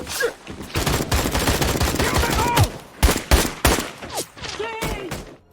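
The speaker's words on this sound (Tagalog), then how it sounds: "Nagkubli ang parehong grupo at nagpalitan ng walang tigil na putukan" Sustained gunfire in a war film scene set in Vietnam, with Soviet snipers and a squad trading shots: dense rattling bursts and single loud cracks overlapping, punctuated by whistling ricochets and brief lulls.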